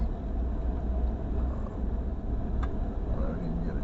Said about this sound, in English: But I'm not in fourth wheel drive, driving a Ford F-150.